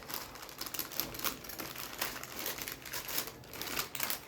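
Paper food packaging wrapped around puri from Vidyarthi Bhavan in Basavanagudi, Bangalore, crinkles and rustles in a steady crisp stream of crackles, close and moderately loud, with no talking.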